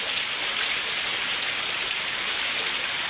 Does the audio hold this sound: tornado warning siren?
no